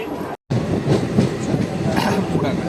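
The Hazarduari Express, a Kolkata–Lalgola passenger train, pulls slowly out of a station, a steady close rumble of rolling wheels and carriages after a brief cut-out at the start.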